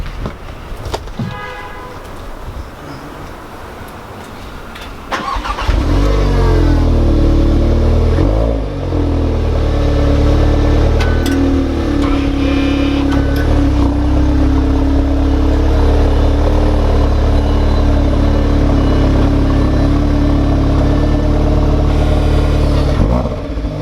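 An engine cranks and catches, then settles into a loud, steady running rumble with occasional revs, close by and continuous for most of the clip.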